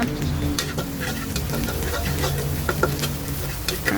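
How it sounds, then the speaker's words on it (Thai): Curry paste stir-fried in a pan for a Thai fried catfish dish, giving a steady close sizzle with scraping stirring strokes and a faint low hum underneath. "ผัดลงไปเลยจ้าแล้วแม่ก็จะใส่กระชายลงไปผัดด้วยเลยนะจ้า"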